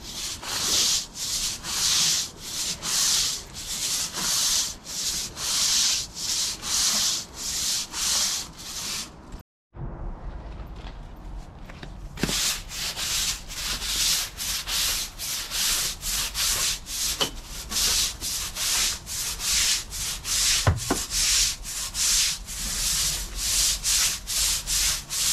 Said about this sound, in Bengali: একদম ঘষে ঘষে এগুলোকে ওয়াশ করতে হবে